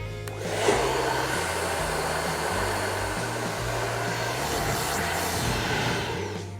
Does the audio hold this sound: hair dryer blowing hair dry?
yes